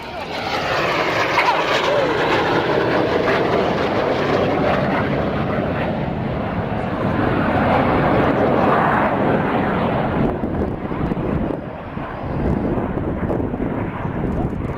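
RAF Red Arrows jets cross at high speed during an airshow display, producing a loud, sustained roar that swells and dips as they pass, with a commentator speaking over the noise.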